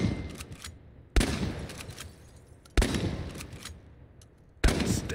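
Shotgun fire in the video game Chernobylite: three loud, sharp blasts spaced a second or two apart, each with a decaying echoing tail, no talking over them.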